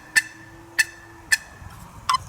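Four sharp, evenly spaced clucks come from a wooden turkey box call, each lid strike short and crisp, close and alone with no talking.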